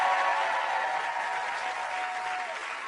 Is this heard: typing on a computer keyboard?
no